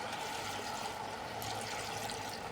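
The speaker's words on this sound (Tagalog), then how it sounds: "Lagyan natin ng konting tubig." A little water is poured into a pan of chicken adobo, giving a steady close rushing splash with no talking.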